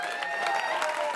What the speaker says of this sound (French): C'est trop bien que vous ayez applaudi